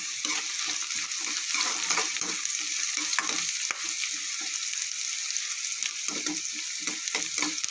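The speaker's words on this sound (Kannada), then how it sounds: "ಈರುಳ್ಳಿ ಎಲ್ಲ ಚೆನ್ನಾಗಿ ಫ್ರೈ ಆಗಿದೆ" Onions frying in oil for goat blood fry, a dense, continuous sizzle with rapid crackling and occasional stirring scrapes, loud and close throughout.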